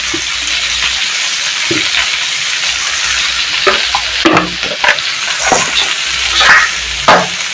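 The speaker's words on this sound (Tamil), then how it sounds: "தக்காளி உப்பை போட்டு நல்லா வதக்கி விட்டுருங்க" Tomatoes with salt sautéed and stirred in a pan for a pirandai thuvaiyal, giving a steady close sizzle with scraping spoon strokes and stirring clatters that build toward the end.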